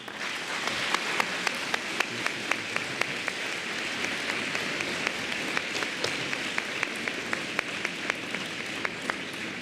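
Steady applause from a lecture audience at the close of a session on the Algerian War in French memory, a dense even patter of many hands with sharper individual claps standing out, moderately distant and continuous throughout.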